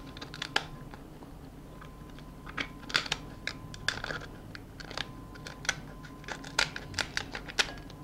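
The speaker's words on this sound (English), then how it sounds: "So just cut with scissors." Kitchen scissors cut through a lobster shell, giving a run of sharp crunching snips and cracks in irregular bursts, close and without talk.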